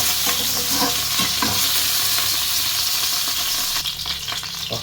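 Garlic sizzles in hot cooking oil in a pan, with a steady loud hiss and crackle close up and occasional scraping stirs.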